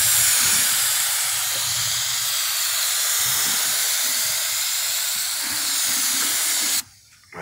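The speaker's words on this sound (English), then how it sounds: "spray this on there right away. It's the normal guide coat." A spray gun applying guide coat to a 1995 Ford F250 hisses loudly and continuously for several seconds at close range, then cuts off abruptly.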